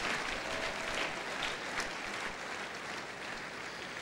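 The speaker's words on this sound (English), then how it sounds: "another round of applause for yourselves for being a very attentive audience" An audience at a business event applauds steadily throughout, a dense wash of clapping that stays even and close before tapering slightly.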